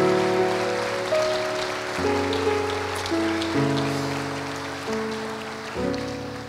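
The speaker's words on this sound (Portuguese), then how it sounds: "Dê uma forte salva de palmas para Jesus." Congregation at a church conference in Blumenau applauding, a steady dense wash of clapping that continues under sustained organ or keyboard chords.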